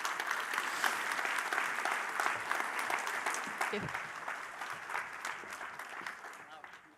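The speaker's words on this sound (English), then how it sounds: "A big applause." Audience applause at a copyright conference as panelists join the stage, steady dense clapping throughout that fades slightly toward the end, with a brief spoken word over it.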